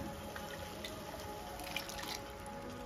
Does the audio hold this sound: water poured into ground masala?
yes